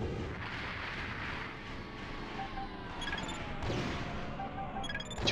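Missile launches and explosions in the mech combat video game Armored Core: heavy booms and rumbling blasts roll on one after another, loud and dense, with sharp metallic electronic blips near the end.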